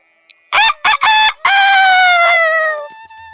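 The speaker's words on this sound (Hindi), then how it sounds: "ये कहकर मुर्गा एक टीले पर चढ़ा और बांग देने लगा।" A red rooster in a Hindi cartoon crows from a mound, a loud close cock-a-doodle-doo in several clipped opening notes followed by one long drawn-out call that fades away.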